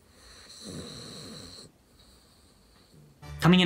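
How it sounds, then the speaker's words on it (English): A flat-nosed Boston Terrier snoring, with wheezy, rhythmic nasal breaths and a soft snort, fairly faint and close, ending in a louder burst of noise. "they snore. Once again, this is because they're flat nose and they happen to snore kind of like a 40-year-old man"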